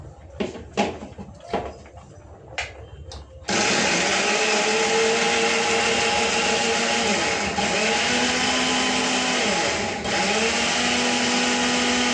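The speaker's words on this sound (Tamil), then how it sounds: "தக்காளி, வெங்காயம், பூண்டு அதெல்லாம் வச்சு அதெல்லாம் வந்து அரைச்சி வச்சுக்கலாம்" Electric mixer grinder blending tomato, onion and garlic in a home kitchen, starting after a few clicks and knocks and then running as a loud, steady whirring drone that continues to the end.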